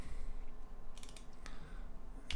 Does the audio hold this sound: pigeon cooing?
no